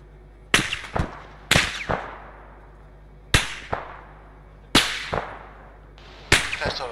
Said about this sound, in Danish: Stadigvæk skud ned fra marken her.